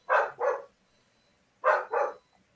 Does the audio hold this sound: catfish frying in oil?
no